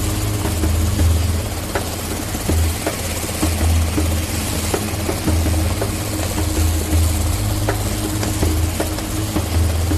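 Helicopter heard steadily throughout, a loud continuous rotor thrum with rhythmic low beating and engine whine, no voices.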